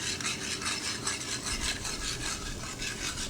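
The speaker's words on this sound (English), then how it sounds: "Now I'm gonna keep stirring the sauce with a whisk." A whisk scrapes and swishes through a cream sauce in a pan, a close, steady rhythmic rubbing that repeats in quick strokes without pause.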